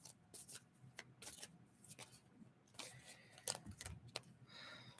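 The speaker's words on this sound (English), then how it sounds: "let me shuffle again" Tarot cards being shuffled by hand, with quiet, close riffling bursts and soft slaps separated by brief pauses.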